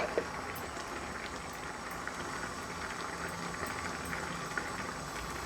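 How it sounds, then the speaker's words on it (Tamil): A pot of fresh broad bean kuzhambu curry at a steady boil, giving off a continuous, even bubbling and simmering hiss at close range with no talking. "கொஞ்சம் கொதிக்கட்டும்."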